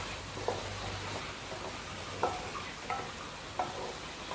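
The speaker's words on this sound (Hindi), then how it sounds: "इसको हम भूनेंगे अच्छे तरीके से" Chicken pieces frying and being stirred in a pot with no spices added yet, a soft steady sizzle under periodic scraping stir strokes, fairly quiet and close.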